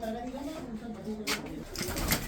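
Breeder pigeons coo in low, repeated throaty phrases close by for the first part. A couple of sharper rustles or flutters follow, and someone speaks alongside.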